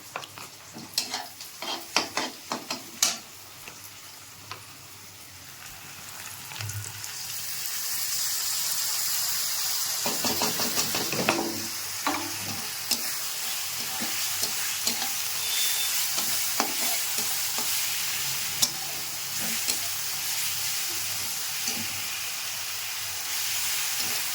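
Spice paste for a jackfruit and prawn curry goes into hot oil. A few clinks and scrapes come first, then a sustained loud sizzle with intermittent stirring clatters. No voices are heard.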